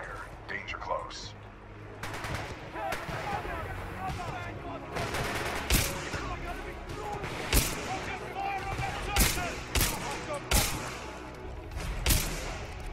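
Gunfire from Titanfall 2 sounds as repeated loud bursts and booming impacts in a steady rhythm, with speech mixed in over the battle noise.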